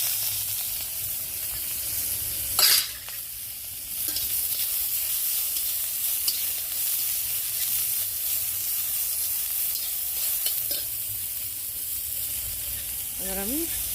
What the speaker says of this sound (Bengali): জিরেটা একটু ভাজা হয়ে গেলে পেঁয়াজ কুচি দিই।